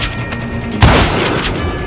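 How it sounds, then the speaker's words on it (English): A double-barrel shotgun blast in the Call of Juarez Gunslinger western shooter lands as a single loud, close boom with a lingering roar, following a quieter stretch of game ambience. "Robert Ollinger appeared with his terrible double-barrel shotgun."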